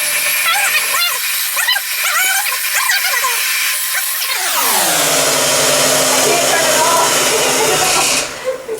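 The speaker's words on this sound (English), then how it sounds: "Beating the butter. on medium high speed until it's fluffy." A loud, steady electric mixer beating butter on medium-high speed whirs continuously after a few seconds of talking, holding an even high-speed drone until it cuts off near the end.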